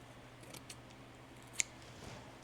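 Scissors snip a thin strip of memorial ribbon during a spring bunny napkin decoupage craft, giving two or three faint, quick cuts over a quiet room.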